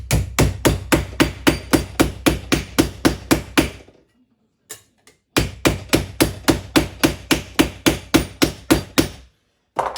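A hammer strikes silver sheet on a mandrel in quick, evenly spaced sharp blows, a run of about a dozen, a pause with a couple of light taps, then another steady run, loud and close.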